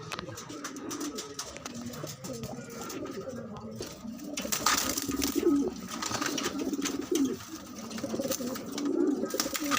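Tippler pigeons coo softly in a series of low, throaty calls, with faint wing sounds and quiet background noise around them.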